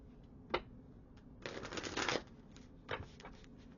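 Tarot cards from a True Emotions deck being shuffled by hand: a few quick riffling bursts, with one longer rustle in the middle, close and fairly soft, with no voices.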